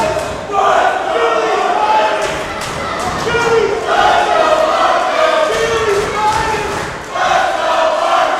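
Wrestling crowd cheering for Marcus Mathers, a loud sustained roar of many voices swelling in repeated waves with chanting-like surges and a few thumps.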